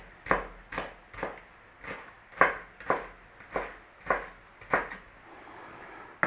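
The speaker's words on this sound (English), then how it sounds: "We want some little dices of jalapeno." A knife dices jalapeno on a cutting board with a steady series of about ten crisp, close chops at an even rhythm, with no voices.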